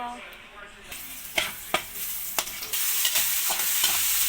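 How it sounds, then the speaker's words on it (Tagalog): Onion, garlic, tomato and chili hit hot oil for ginataang tilapia, flaring into a loud, close sizzle that builds and keeps hissing, with a few sharp scrapes of a spatula stirring the pan. "Guys, magigisa na po tayo."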